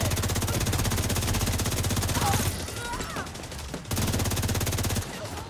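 Rapid automatic gunfire in The Division 2 during a fight with rogue players at the East Mall, dense bursts that stop and then resume, loud and close.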